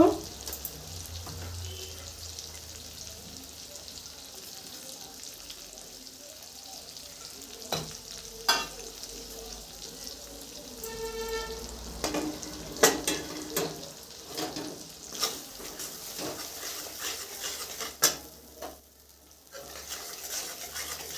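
A butter paneer masala with a ground cashew and melon seed paste sizzles in a pan, while a spoon stirs and scrapes it. The steady frying runs throughout, with sharp intermittent clacks of utensil against metal.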